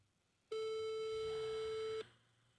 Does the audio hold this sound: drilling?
no